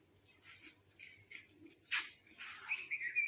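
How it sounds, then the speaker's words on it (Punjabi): Faint, quick bird chirps repeat over a quiet background, with a sharper burst of tweeting near the end. "ਪੰਛੀਆਂ ਦੀਆਂ ਆਵਾਜ਼ਾਂ ਵੀ ਚੈੱਕ ਚੈੱਕ ਕਰਦੀਆਂ ਪਈਆਂ ਨੇ"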